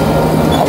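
A train passes close by, producing a loud, low rumbling roar of rolling wheels and cars in a brief burst, near Suan Phueng in Ratchaburi.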